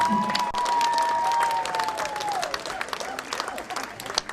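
An audience applauds steadily, a dense wash of clapping with some cheering and voices mixed in, gradually thinning toward the end.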